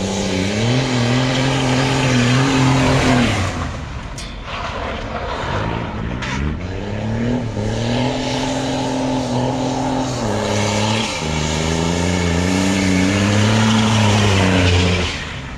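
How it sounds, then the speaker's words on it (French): A bi-turbo TDS diesel car accelerates hard, its engine note climbing through the revs with a turbo blowing. Loud and close, it surges, dips at a gear change, then pulls up again in repeated rising sweeps. "On dirait que le turbo il souffle."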